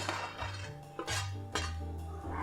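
A spoon stirs vegan custard mixture with chopped nuts and chocolate in a bowl, making a few close, quiet clinks and scrapes against the dish at an uneven rhythm, with no talk.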